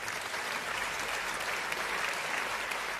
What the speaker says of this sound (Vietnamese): Một tràng pháo tay dành cho Thanh Sang và Nguyên Thiện.